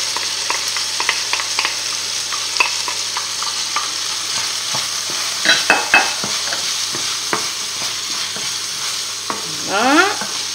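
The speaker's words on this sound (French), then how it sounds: "On met nos oignons et notre ail." Chopped onions and garlic frying in olive oil over lowered heat, a steady close sizzle broken by scattered stirring clicks and scrapes of a utensil in the pan.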